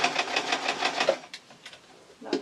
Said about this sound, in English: a couple of reverse stitches because it's going to be a permanent seam